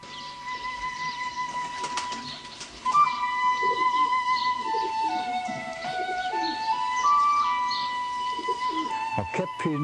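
Kept pigeons coo and murmur close by in a loft, with soft repeated calls, chirps and brief wing flutters, while faint tonal hums run steadily underneath.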